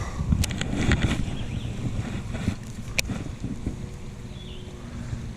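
Breezy wind blowing steadily while fishing from a boat, rumbling against the microphone with a few light knocks and clicks and no talk.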